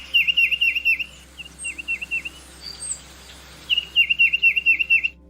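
A tufted titmouse sings nearby, clear repeated whistled phrases in quick rhythmic bursts, with a pause in the middle before the series resumes, loud and alone over a quiet background.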